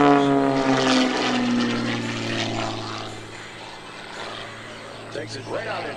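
An Extra 300 aerobatic propeller plane roars loudly through manoeuvres at the 2013 Lehigh Valley Airshow, its engine note shifting in pitch as it climbs and turns, with an announcer talking over it.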